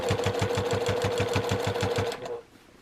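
A sewing machine runs in a quick, even run of stitches on a bargello quilt, then stops abruptly, leaving a faint hum.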